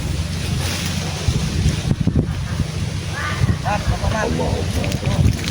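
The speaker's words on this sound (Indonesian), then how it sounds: "Angin semakin kencang." Strong wind blows outdoors near the sea, roaring steadily into the microphone with buffeting gusts, while voices speak over it.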